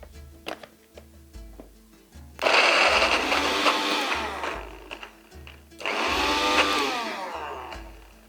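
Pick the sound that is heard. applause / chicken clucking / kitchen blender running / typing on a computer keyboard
kitchen blender running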